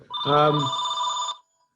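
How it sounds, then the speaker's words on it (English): A telephone rings in a single electronic burst of about a second, its tones clear and fairly loud in a quiet room during a luncheon discussion, then it stops abruptly. "my phone's ringing"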